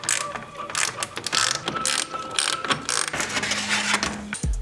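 Ratchet wrench clicking steadily while removing bolts during a front-mount intercooler install on a 2015-2019 Subaru WRX, close and fairly loud, with rapid pawl clicks in bursts and a short metallic clunk at the end.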